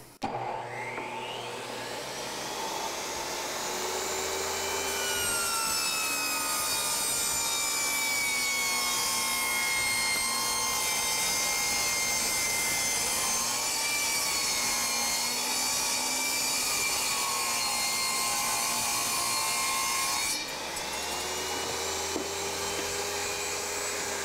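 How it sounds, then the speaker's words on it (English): A chop saw with its blade spinning toward the operator slices through engineered hardwood flooring, a loud, steady high-pitched whine with a shifting rasp for about fifteen seconds, spinning up at the start and winding down at the end. "This particular saw, the blade comes towards you. It's like a chop saw, and then it's spinning in the same direction"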